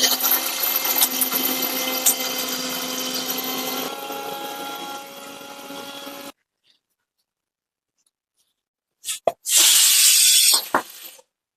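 A mixer grinder grinding roasted spices runs loud and steady for several seconds, then stops into silence, and a short second burst of grinding follows.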